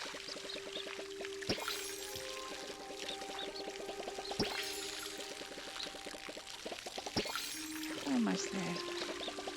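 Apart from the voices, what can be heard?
watering a garden in the video game Palia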